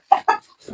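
A large six-month-old rooster on a small poultry farm gives three or four short, loud clucks in quick succession while someone holds it close.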